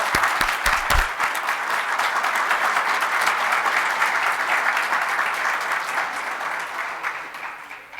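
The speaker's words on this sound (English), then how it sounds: "So let's everybody give them a round of applause." Audience applause at a press conference, a dense sustained clapping that begins with a few sharp near claps, holds steady and loud, then thins slightly toward the end, with no talk over it.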